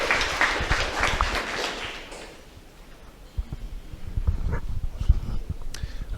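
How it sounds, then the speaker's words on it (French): An audience at a law school launch day ceremony in Guédiawaye bursts into dense applause that fades after about two seconds, leaving scattered claps and room noise. "Sous vos applaudissements, s'il vous plaît."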